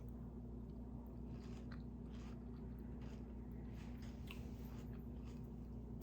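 Close-up chewing of home-canned corn, with soft crunchy bites scattered over a steady low hum, no talking.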